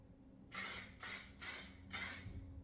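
Four quick bursts of hairspray hiss in a row, each about half a second, close by and fairly soft.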